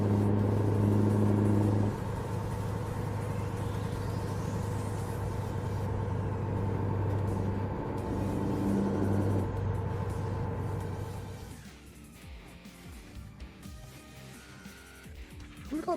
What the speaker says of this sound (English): I know the engine sounds like really loud.